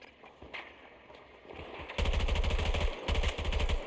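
Rapid full-auto gunfire from a Battlefield 2042 firefight, starting faint with scattered distant shots, then erupting into loud, dense sustained bursts with a brief pause before firing resumes.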